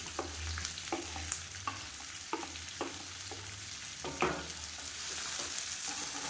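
Chopped onions and green chillies fry in a pan with a steady close sizzle, punctuated by scattered clicks and scrapes of stirring, with a low hum underneath.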